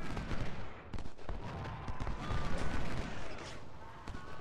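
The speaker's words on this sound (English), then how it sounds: "2 brigades firing on Tyler." Rifle volleys crackle from two brigades in a Civil War battle in the Ultimate General: Civil War game, a dense, rolling, fairly distant clatter of musketry that continues without pause.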